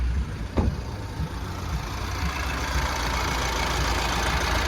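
A 2019 Mahindra XUV300 W6 engine idles with a steady broadband drone and low hum, close and constant after a short click near the start, with no talk.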